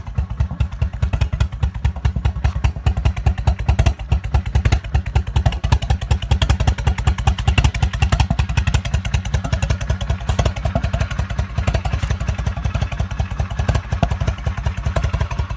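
A Stage 2 Honda Shadow ACE 1100 motorcycle runs close by at idle, with a loud, lumpy, steady stream of rapid exhaust pulses and no speech.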